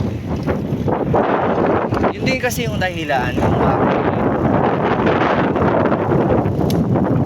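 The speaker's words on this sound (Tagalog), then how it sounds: "yun yung hirap magsalita pag gandong sobrang hangin" Strong wind roars and buffets the microphone continuously while riding a bicycle outdoors, loud and steady, with someone speaking over it.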